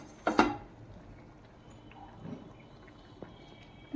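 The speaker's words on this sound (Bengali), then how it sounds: "প্রথমে আমি একটা ফ্রাই প্যান বসিয়ে দিলাম" A frying pan set down on a stove while making a spiced hog plum pickle, one clear metallic clank followed by faint scraping and small knocks in a quiet kitchen.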